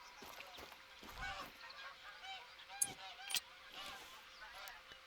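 A flock of geese honks over and over in The Hunter: Call of the Wild, a dense, layered chorus with a few sharper, louder calls standing out.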